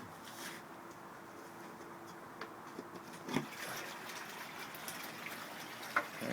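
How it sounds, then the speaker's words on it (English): Running water from a goldfish pond filter outdoors, a steady faint gush and trickle with a few small splashes and knocks, no talking. "I'm gonna turn the filter on so you guys can see what it looks like."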